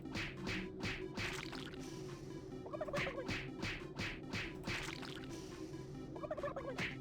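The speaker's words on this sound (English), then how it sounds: "You punch the shit out of some turkeys." Turkeys gobble in a video game, repeated warbling calls over a steady mechanical hum and background game noise, moderately close with no talk.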